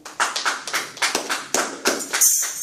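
A church congregation applauding in worship, a regular rhythmic clapping of many hands in time, close and fairly loud with no voices over it.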